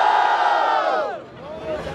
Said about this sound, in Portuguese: Barulho para as rimas do AJ